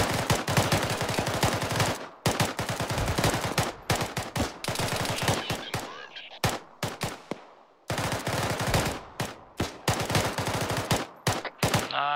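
A squad opens fire together in the Arma 3 video game: loud, rapid bursts of small-arms gunfire in tight clusters, broken by brief pauses, with a swishing whoosh midway.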